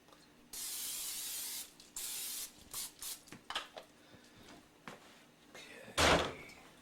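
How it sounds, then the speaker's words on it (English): Several bursts of cooking spray hiss close by into a preheated pan, one long then shorter ones, ending with a louder clatter. "Some cooking spray and some canola cooking oil."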